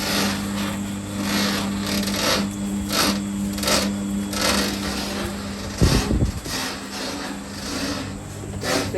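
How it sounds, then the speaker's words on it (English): A dough mixing machine churning bread dough with yeast, a steady mechanical whirr with a rhythmic rubbing pulse and a low hum, plus a brief clunk partway through. "there's just a switch on the side here for that, and then it just starts turning around."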